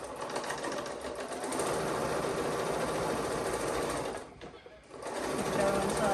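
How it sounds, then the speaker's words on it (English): A sewing machine runs steadily and loudly while re-stitching a chain safety stitch on smocked pants, with a brief dip in the whir before it picks up again. "I'm just going to go ahead and re-stitch that, just stitch over it"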